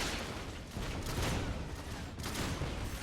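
Weapon fire from the video game LawBreakers, dense and noisy, with booming blasts blending into a steady roar of battle.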